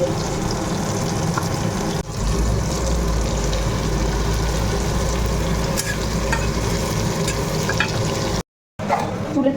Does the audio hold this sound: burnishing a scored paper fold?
no